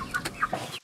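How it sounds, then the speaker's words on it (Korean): Chicken clucking in a countryside setting, a quick series of several short clucks close to the listener, ending abruptly. "아 닭이야 닭."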